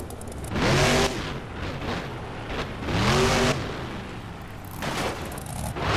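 A monster truck in the BeamNG driving game roars and revs in two loud surges with rising harmonic engine tones, broken by heavy crunching impacts and rattling crashes as it tumbles and lands on dirt, with no talking.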